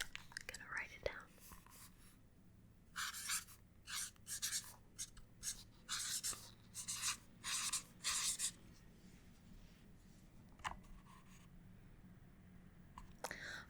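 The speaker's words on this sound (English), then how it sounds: "The first one is a turtle that we translate to, I'm gonna write it down." Pencil scratching on paper while writing out a Dutch animal name, a close, soft series of short rasping strokes with brief pauses between letters, and faint whispering at the edges.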